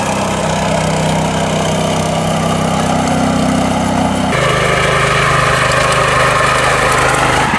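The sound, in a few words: Raja Bhai R-750 power tiller engine running in mud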